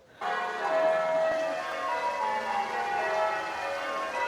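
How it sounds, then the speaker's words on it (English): Church bells ring in Oxford, a steady wash of overlapping metallic tones sustained from a moderate distance with no talking over them. "The bells are ringing."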